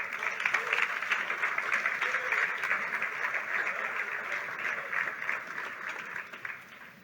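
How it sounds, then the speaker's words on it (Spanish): A church congregation at a Sunday service applauds together, a steady, dense wash of clapping lasting several seconds at moderate distance, fading slightly toward the end. "Denle aplauso al Señor."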